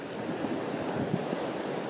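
Ocean surf washing along the Tenerife coast, a steady broadband wash of waves with wind buffeting the microphone, heard alone without voices.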